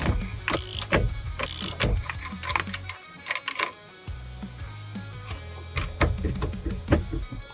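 A socket wrench with a 15/16 socket ratchets on the bolt holding a car steering wheel, giving close, loud bursts of rapid clicking with short pauses between strokes and no talk.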